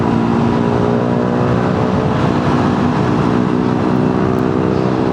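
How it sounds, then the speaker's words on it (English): A motorcycle, an RN5 fitted with a short-can HC Project aftermarket exhaust, sounds loud and close with a continuous throaty engine drone throughout and no pauses. "That's a solid exhaust for an RN5, yeah?"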